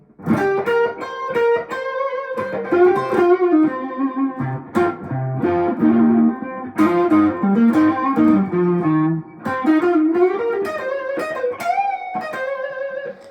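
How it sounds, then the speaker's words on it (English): A Collings I-35 LC or I-30 LC electric guitar on its neck pickup, overdriven with a thick, rounded tone, plays phrased licks and chords, with short pauses between bursts of playing. "Then you can get the neck pickup for a nice fat sound."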